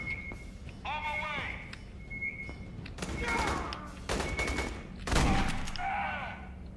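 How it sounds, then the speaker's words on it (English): Shotgun blasts in Aliens: Colonial Marines, several sharp booming shots at uneven intervals, up close, mixed with alarm-like tones, game effects and occasional speech. "Let's go ahead and switch to the shotgun since we are up close and personal over here."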